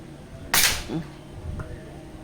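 A single sharp pneumatic shot bursts from an SPMC tube tank launcher, a loud close crack with a short hiss that fades quickly, followed by faint mechanical clicks.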